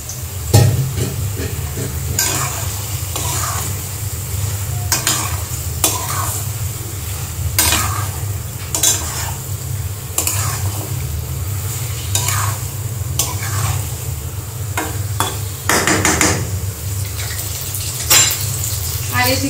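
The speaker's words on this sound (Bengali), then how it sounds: "একদম মশমশা করে ভাজা নিতেছি" Chicken pieces, small potatoes and onions frying in a pan, with a continuous loud sizzle and repeated scraping and clanking of a spatula stirring against the metal pan, close by, with no speech.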